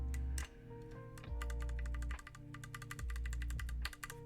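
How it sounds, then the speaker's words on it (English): Keycaps are pressed onto a Legacy45 mechanical keyboard in rapid bursts of close, crisp clicks and taps, over a steady low hum. "let me get all the keycaps on"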